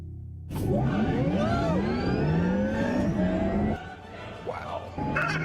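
A Porsche sports car at a sports car gathering revs hard and accelerates away, its engine note climbing through several gears. The car is loud and close at first, then fades as it pulls into the distance.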